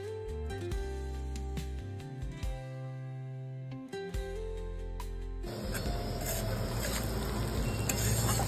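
Capsicum and peanuts frying in a pan for a Marathi-style bhaji, a steady sizzle and crackle that turns louder and denser partway through as the peanuts go in, with faint stirring and no talk.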